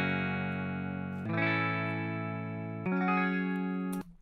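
Clean chorded electric guitar samples with no distortion, three sustained chords struck one after another, each ringing steadily before the next, clear and moderately quiet.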